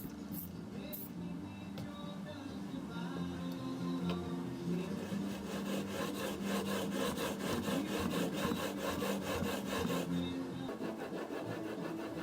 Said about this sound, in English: we'll work it progressively through these grits and see if we can get it fairly sharp